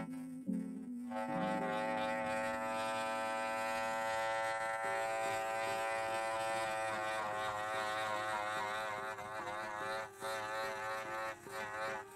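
Pet trimmer from Petco buzzing steadily and close for several seconds in a puppet-building shop, its electric drone holding a steady pitch with brief dips near the end.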